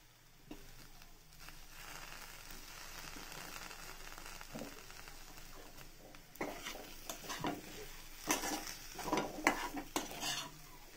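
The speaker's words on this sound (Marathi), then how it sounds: "चला आता हा बटाटा छान असा परतून झालाय." Mashed potato filling seasoned with salt and coriander leaves, stirred and sautéed in a pan for moong masala dosa: quiet sizzle with spoon scrapes and clinks growing louder and busier toward the end, close-up, no talking.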